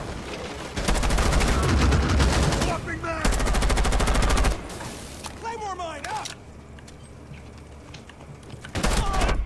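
Rapid automatic gunfire rattles in long loud bursts during a Rainbow Six Siege match, broken by short gaps and a final burst, while players talk excitedly over it.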